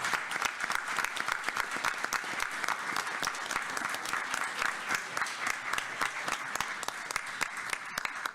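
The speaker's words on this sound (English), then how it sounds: "let's give them a big round of applause" Attendees at a school district board meeting give a long round of applause, with steady, fairly sparse individual claps from a modest crowd in a meeting room.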